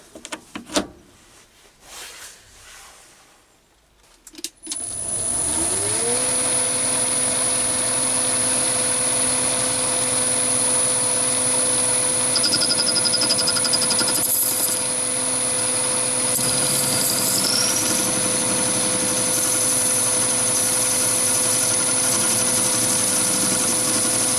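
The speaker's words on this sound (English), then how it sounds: "And then I use a 45 HSS face-off tool to do the facing off." An HSS face-off tool facing a copper penny held in a Chinese mini lathe: after a few seconds of quiet handling, the motor and cut start up and run as a steady, loud whine with a sustained high tone.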